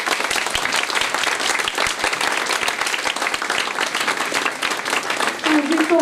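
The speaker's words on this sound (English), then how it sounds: "give a huge round of applause again." Large crowd applause at a high school annual day celebration, dense rapid clapping that holds steady and loud, with a voice emerging briefly near the end.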